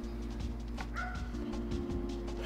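A puppy gives a few short, yipping barks close by over a steady low hum of background noise.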